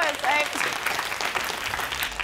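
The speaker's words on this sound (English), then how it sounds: "Can we give them a round of applause?" Applause breaks out from a studio audience, steady clapping over a couple of seconds mixed with some crowd voices.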